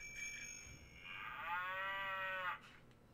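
A cow's moo from a printed children's sound book plays as one drawn-out, slightly electronic lowing call that holds for about a second and a half and then stops abruptly, with no one speaking.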